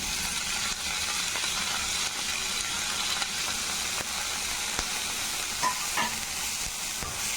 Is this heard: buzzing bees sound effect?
no